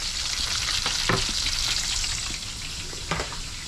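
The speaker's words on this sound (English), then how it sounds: "All right, stirring that up." Food sizzles steadily as it fries in a pan while being stirred, a dense, close, continuous hiss broken by a few soft scrapes and knocks from the stirring.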